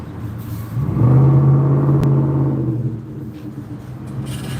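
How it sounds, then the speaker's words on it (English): A loud car revving nearby, its engine note rising into a strong sustained drone and then fading back down over a few seconds. "Now, these folks got some loud cars."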